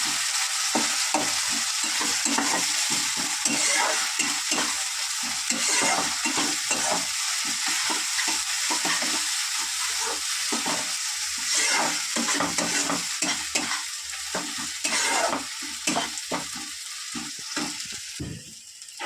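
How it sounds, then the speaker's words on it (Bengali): Garlic, ginger and chili paste frying in a pan, stirred steadily with a utensil; a loud continuous sizzle with rhythmic scraping strokes throughout, no talking. "এবার এটাকে ভালো করে নেড়ে নেব। তো ভালো করে দেখতেই পাচ্ছ নেড়ে নিচ্ছি।"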